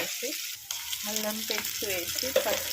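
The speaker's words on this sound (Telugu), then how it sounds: "ఉల్లిపాయలు కూడా వేసి బాగా వేయించాలి" Onions frying in a pan alongside dried red chillies, a steady close sizzle with stirring clatter and scraping throughout, no talk.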